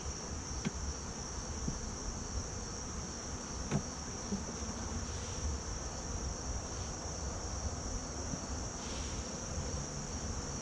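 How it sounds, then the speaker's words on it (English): Faint, steady buzzing of a cluster of honeybees covering a comb, over a quiet outdoor hiss, with a couple of soft clicks. "There's a cluster of bees in here protecting, covering that comb"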